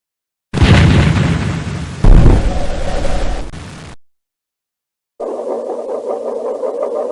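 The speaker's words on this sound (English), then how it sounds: "the Goblin takes the full brunt of the cannon's electrochemical blast" Electrochemical cannon blast in the 1995 Spider-Man interactive CD-ROM comic game: a loud roaring explosion bursts, surges again, and fades out, then after a short silence a rumbling fire-like drone follows.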